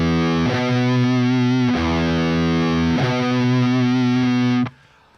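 A heavily distorted electric guitar plays a perfect fifth power chord for metal, struck three times and left ringing thick and sustained before cutting off abruptly at the end.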